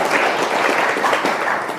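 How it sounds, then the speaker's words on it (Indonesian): Dense, steady applause from a crowd of Nahdlatul Ulama members at a South Sumatra gathering, loud and close, filling the whole short stretch without letup. "Tepuk tangan lagi."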